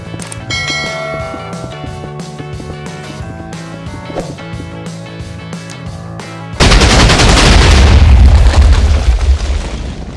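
Video game fireworks in Minecraft: a sharp rhythmic series of pops and bangs, then a sudden massive roaring blast that rumbles loudly for several seconds before fading slightly, leaving a big crater.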